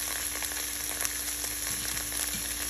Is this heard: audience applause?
no